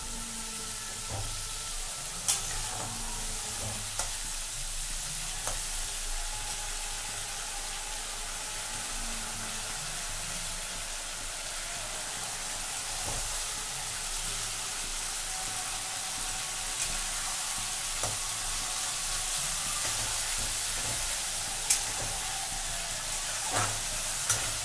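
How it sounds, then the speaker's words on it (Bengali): Ground spice paste sautéing in a pan, a steady broadband sizzle that holds throughout at moderate level, with occasional light clicks and scrapes from stirring. "অ্যাড করে দিয়ে এবার এটাকে কষাচ্ছি।"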